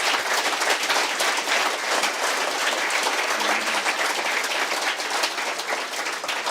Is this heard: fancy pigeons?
no